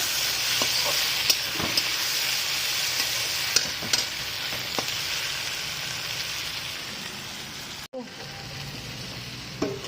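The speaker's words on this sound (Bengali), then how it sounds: "তারপর দেবো টমেটো, টমেটো আর আদা রসুন বাটা দিয়ে একটু ভেজে নেবো।" Tomato with ginger-garlic paste fries in a pan for Bengali masoor dal, potato, cauliflower and egg curry: a steady, close sizzle with a few sharp stirring clicks, then a brief break and the frying resumes.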